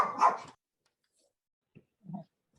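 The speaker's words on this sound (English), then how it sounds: "I'm glad that's not my dog." A dog gives one short, fairly loud bark, followed after a pause by two fainter, softer yips or whimpers.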